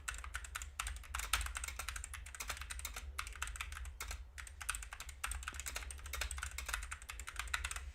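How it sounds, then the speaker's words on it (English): Fast, continuous typing on a computer keyboard during a live futures day-trading session, a dense, steady patter of quiet key clicks with no pauses and no voices. "oh my gosh, I'm in flow state typing."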